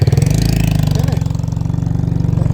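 A tractor engine idles close by at a steady, loud, throbbing pulse during soybean procurement at a purchase centre in India, running alone without talk.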